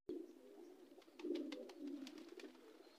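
High flyer pigeons coo in a cage, soft repeated throaty coos close by with a few faint flutters, no talking.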